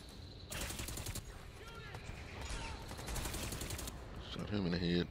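Gunfire in the shooter Crysis 3 comes as bursts of loud rapid shots and impacts, with a voice talking over parts of the action.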